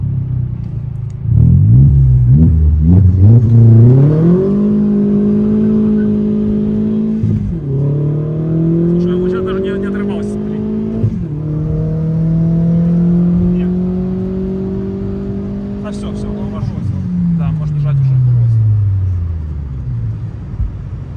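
Opel Calibra race car accelerating hard from the start, engine revving up through several gear changes in a loud rising-and-dropping pattern, then fading into the distance, with people talking faintly nearby.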